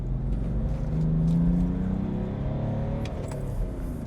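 BMW 525d Touring with a 230-horsepower inline-six diesel engine heard while driving: a smooth, steady low drone with a faint tonal hum that rises slightly over four seconds, with no talk.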